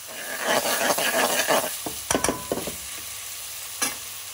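About 200 grams of chopped white onions hit hot oil for a prawn garlic chilli curry, letting out a loud crackling sizzle that eases off, followed by a few sharp clinks and scrapes of a utensil against the pan.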